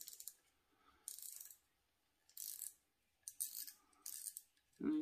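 Plastic clicks and ratcheting rattles as the spool is worked off an open face spin cast reel, four or five short bursts separated by quiet pauses, close up.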